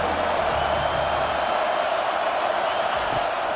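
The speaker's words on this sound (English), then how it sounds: "Decibels rising as the crowd gets behind this defense on third down" Stadium crowd in EA College Football 25 roaring steadily as a defense lines up on third down, a dense, sustained wash of distant cheering with no distinct voices.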